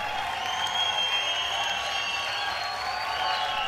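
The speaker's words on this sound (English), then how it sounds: "As Victor Martinez emerges from behind the curtain at the Tribeca Performing Arts Center, the crowd erupts with appreciation." A crowd in a performing arts center applauds as bodybuilder Victor Martinez walks out from behind the curtain onstage, a steady, fairly distant wash of clapping and murmuring that holds without letup.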